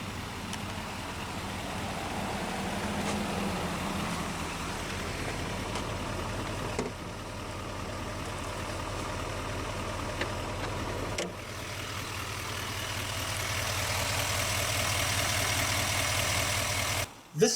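A 2021 GMC Sierra 2500HD Denali with the Duramax 6.6-liter turbo diesel V8 idles steadily, a close, even diesel rumble with a faint clatter and no talking.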